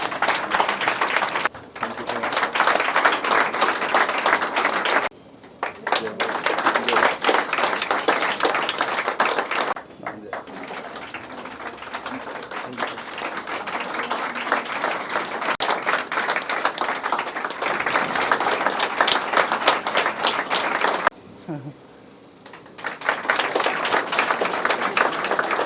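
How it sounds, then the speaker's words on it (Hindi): Audience clapping at a navy felicitation ceremony in Kolkata, sustained loud applause in several long bursts broken by brief pauses, with little talk over it. "तालियों में कमी नहीं होनी चाहिए।"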